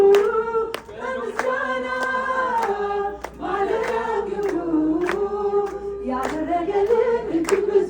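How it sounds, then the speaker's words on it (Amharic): Congregation clapping hands at an Amharic worship service, with sharp irregular claps cutting through loud sung praise and music. "አጨብጭቡ"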